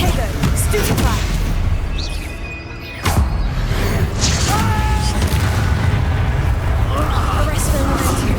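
A Stupefy spell strikes during a Hogwarts Legacy duel: loud, booming magical impacts over a dense wash of battle effects, with a sharp hit cutting through about a third of the way in.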